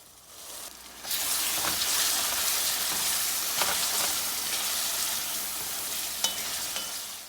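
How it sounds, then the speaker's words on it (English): Paneer sizzles loudly in a pan with onion, tomatoes, garam masala, garlic and green chili. The hiss starts after a second and holds steady and close, with no talk. "After frying the cottage cheese with onion, tomatoes, garam masala, garlic, and green chili"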